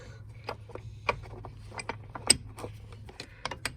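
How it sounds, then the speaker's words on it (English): An 11mm brake spanner undoing a brake pipe fitting on a Mercedes R107 SL, a quiet series of irregular metallic clicks and creaks from the loosening nut, close and faint. "I've got an 11mm brake spanner on there. I'm going to undo this."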